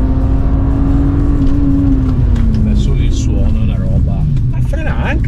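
A BMW M3 six-cylinder engine hums steadily close by, its tone sliding gradually lower rather than climbing, with a person talking over it most of the way.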